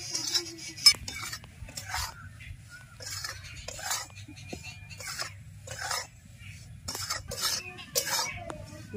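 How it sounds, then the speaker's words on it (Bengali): Rice flour being stirred in ghee in a kadai, a soft scraping and stirring of a utensil against the pan in repeated strokes, close and moderately quiet over a low steady hum. "ঘিয়ের উপরে চালের গুঁড়ো দিয়ে 2 থেকে 3 মিনিট নেড়ে নিয়েছি।"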